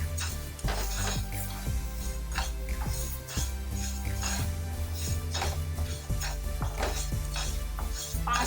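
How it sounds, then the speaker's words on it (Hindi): A spoon stirs flaxseeds dry-roasting in a pan, making continuous scraping, rattling and metallic clinks at a steady, busy rhythm. "चलाते हुए भून लेते हैं"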